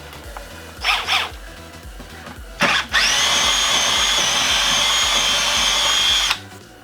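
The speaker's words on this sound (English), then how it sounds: "I'm just going to have to widen it with a 3/8 drill bit" Two short bursts of a power drill, then a long continuous high whine as the drill runs steadily for several seconds, widening a hole with a 3/8 bit, before stopping.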